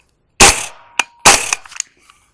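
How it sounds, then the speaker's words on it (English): Two sharp, loud 9mm pistol-caliber carbine shots fired through a B&T Vers 360 suppressor, each a dense crack with a short decaying tail, spaced about a second apart with faint clinks after. "our first suppressor, this is the B&T Vers 360."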